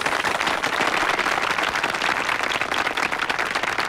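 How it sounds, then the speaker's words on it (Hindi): An audience breaks into continuous applause in a Hindi comedy film scene. The clapping is dense and evenly loud across the whole stretch, with no clear speech over it. "तालियां"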